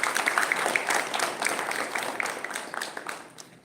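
Audience at a university event claps steadily, individual hand claps distinct at first, then the applause gradually fades toward the end.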